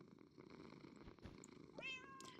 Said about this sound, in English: That cat is purring really loud.